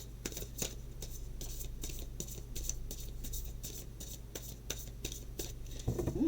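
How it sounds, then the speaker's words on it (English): Tarot cards being shuffled by hand, a run of quick, close, dry riffling taps and scrapes in a steady rhythm, fairly faint, with no talking over them. "Oh, those cards are just shuffling and shuffling."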